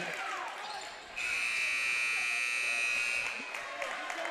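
A loud, sustained buzzer sounds for about two seconds to end the quarter of a men's high school basketball game, cutting in over gym noise and a bouncing ball, with a commentator's voice around it.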